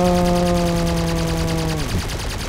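Aircraft machine guns strafe ground targets in the War Thunder video game, a loud continuous rattle of rapid fire with an engine drone beneath, ending abruptly near the close.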